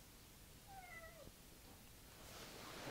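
A house cat gives a short, faint meow in a quiet indoor room, a single rising-and-falling call lasting under a second, with a soft rustle building afterward.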